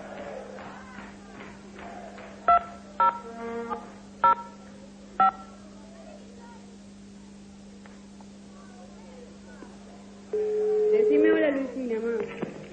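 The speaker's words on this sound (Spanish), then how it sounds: "llamando a casa. Atención en casa, contestando el teléfono por 5 puntos." A television game show places a phone call home: several short, sharp touch-tone beeps in an uneven sequence over a constant low hum, followed by a louder stretch with a voice speaking.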